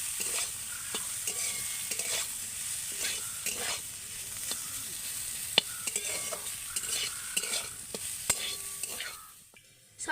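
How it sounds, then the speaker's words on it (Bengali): A spatula stirs mashed potato and spiced meat in a frying pan, making repeated close scrapes and taps over a soft, steady sizzle. The sound fades quieter just before the end. "এবার শুধু আমি একটু ভালো করে নেড়ে নেবো"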